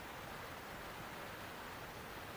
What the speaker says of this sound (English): Maybe you can hear the creek in the background